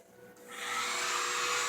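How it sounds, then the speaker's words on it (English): A steady broadband whoosh of a hair dryer switches on partway through and blows loud and continuous to the end, aimed at a Quantum Qube and Star Shell toy. "We take the hairdryer, turn the hairdryer on."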